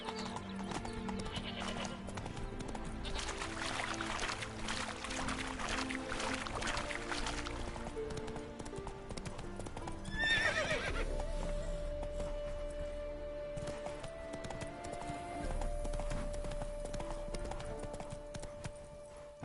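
Roach the horse trots in a video game, with steady clip-clop hoofbeats running throughout, loud and close, and a whinny partway through.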